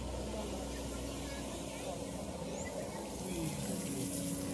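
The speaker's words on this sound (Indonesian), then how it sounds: "Mas, airnya ngocor." Water gushing out at a river dredging site, a steady broadband rush heard beside a low droning engine hum, with people talking nearby.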